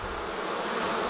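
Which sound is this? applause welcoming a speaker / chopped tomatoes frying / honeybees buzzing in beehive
honeybees buzzing in beehive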